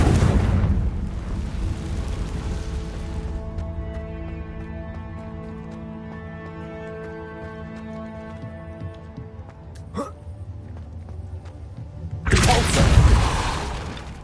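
A Confringo blasting spell explodes in Hogwarts Legacy: a loud, rumbling burst at the opening fades into sustained musical tones, then a second heavy blast erupts near the end.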